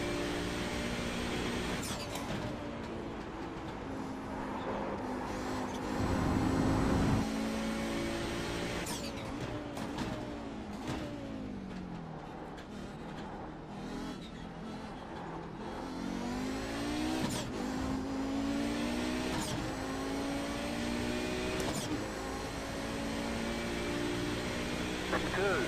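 An Audi 90 GTO race car lapping Suzuka, its engine roaring and rising through the gears with sharp lifts and blips of the throttle, sustained and fairly close, while someone talks over it.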